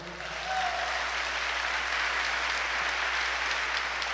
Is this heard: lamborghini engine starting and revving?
no